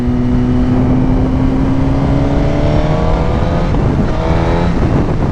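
Motorcycle engine droning and revving steadily while riding on a hot summer morning in Florida, with rising harmonic whine and wind rush throughout, loud and close with no talk.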